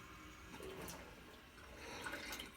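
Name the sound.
water filling a measuring cup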